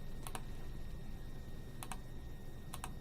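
Keystrokes on a computer keyboard while a formula is entered into a statistics spreadsheet: three quick pairs of light clicks, spaced about a second apart, over a steady low room hum with no voices.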